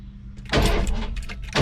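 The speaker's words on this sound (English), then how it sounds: "Nice little belt squeal there for it." A 1983 Ford F150 engine cranks and catches on its first startup after an oil change, then runs in a loud, broadband roar with a high belt squeal riding over it, close by and without talk.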